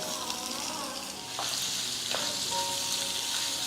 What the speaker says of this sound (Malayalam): ഇനി ഇതിലേക്ക് നാരങ്ങ ചേർത്ത് കൊടുക്കാം.